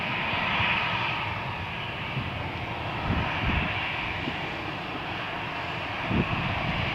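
EasyJet airliner at Malaga Airport heading for Berlin in stormy weather, its engines giving a loud, sustained roar with a bright whining edge and brief rumbling bursts partway through.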